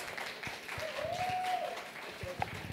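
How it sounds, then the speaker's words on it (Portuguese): Applause from an audience at a literary and cinema evening, a brief, faint, diffuse patter of clapping heard from a distance. "muitas palmas para receber Ronaldo Werneck"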